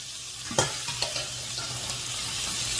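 Boiled lotus root hits hot perilla oil in a pan and sizzles loudly and steadily, with a few clattering taps from stirring near the start.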